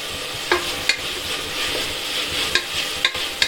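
Chopped onion with ginger and garlic sautéing in a pan: a continuous close sizzle broken by a few sharp spoon clinks and scrapes as it is stirred.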